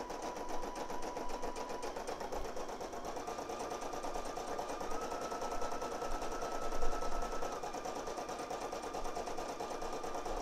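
Embroidery machine sewing a satin stitch along a neckline, a steady fast needle rattle with a constant motor hum, close and fairly quiet, running alone without speech.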